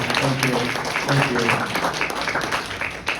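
Applause from a conference audience fills the space, steady and loud, with a voice speaking over the clapping.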